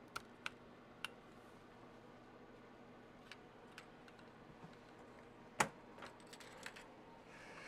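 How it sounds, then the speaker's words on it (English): Ribbon cable being unplugged inside an electronic typewriter during repair: scattered light clicks and ticks, then one sharper snap near the end, all close and quiet over a low room hum. "We'll disconnect this ribbon cable."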